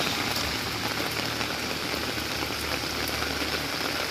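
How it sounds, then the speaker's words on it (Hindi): Heavy rain pours steadily, a dense constant hiss of drops hitting surfaces with no pauses or voices. "बहुत ज़्यादा बारिश हो रही है"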